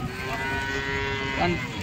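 Cattle lowing at a busy livestock market where cows are bought and sold, a sustained moo rising near the end over steady crowd murmur and background chatter.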